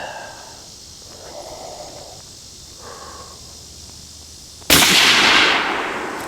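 A single loud, sharp rifle shot from a Bergara B-14 HMR in .308 fires near the end, its report decaying into a broad wash after several seconds of quiet breathing-like noise.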